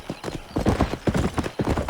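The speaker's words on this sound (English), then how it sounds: "Control that horse, will ya?" Horse hooves clip-clop at a steady, quick pace in a Western setting from Red Dead Redemption. The sound is close and continuous, with no talking during it.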